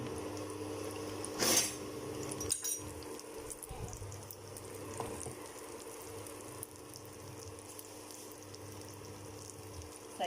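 Grilled-fish chili paste frying in oil for a Tak-style stir-fried young jackfruit dish, a soft continuous sizzle with a brief sharp burst early on and faint stirring scrapes.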